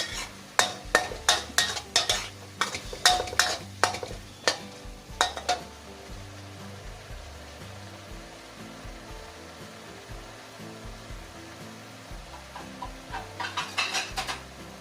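Stink beans with minced pork and chili stir-fried in a pan: a rapid run of loud spatula scrapes and clatters against the pan for about six seconds, then a quieter steady sizzle, with another burst of stirring near the end.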